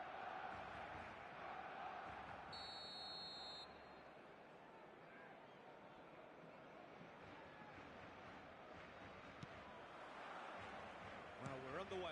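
Stadium crowd noise in the football video game eFootball: a steady, loud wash of massed fans roaring and chanting throughout, with a brief electronic tone early on.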